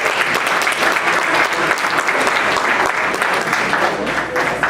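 Audience applause at a presentation honoring two speakers, a loud, continuous roar of many hands clapping at a steady level throughout.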